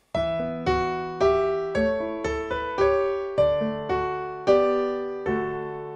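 Piano plays Silent Night as a slow, even series of chords with the inner accompanying notes sounding heavy and loud, crowding the melody. No talking.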